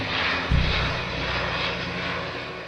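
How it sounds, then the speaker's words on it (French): A distant airplane engine drones steadily over the Arctic, a continuous broadband roar with a low thump near the start, with no voices. "on ne peut s'empêcher d'être excité quand on entend le moteur de l'avion au loin"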